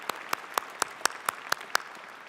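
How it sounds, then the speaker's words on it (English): Convocation guests applaud family and friends at a university ceremony, led by one close, sharp clapper keeping an even, steady beat over a faint, softer background. "I think we should give them a round of applause"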